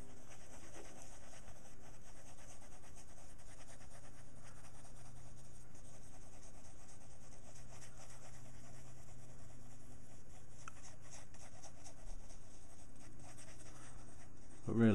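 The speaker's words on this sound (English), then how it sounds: "just sketch things out" A pencil sketches on paper with a steady, soft scratching and rubbing, faint and close, running continuously over a quiet background hum.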